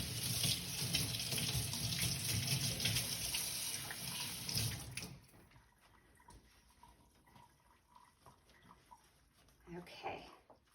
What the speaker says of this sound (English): So let's rinse our hands now.